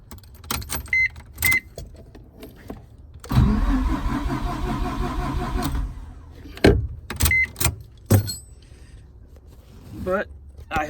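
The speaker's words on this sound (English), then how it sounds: "Let me see if we can get you guys to hear it crank. And I can get it to crank over." A Mazda RX-7 FD engine cranks over for about two and a half seconds without firing. Key jingles and clicks come before and after, and a person talks between them.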